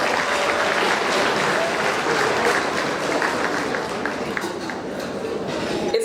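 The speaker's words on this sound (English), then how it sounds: "Please give him a round of applause for that." A large audience at a Jamaica 60 Diamond Jubilee gala applauds steadily and loudly for the full stretch, a dense wash of many hands with no voices standing out.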